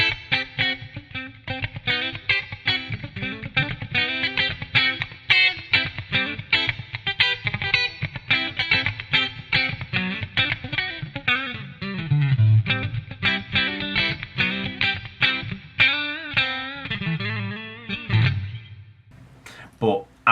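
A distorted electric guitar through a Line 6 Helix with 3 Sigma impulse responses plays rapid chugging riffs and sustained notes, loud and close, ending in a brief pause.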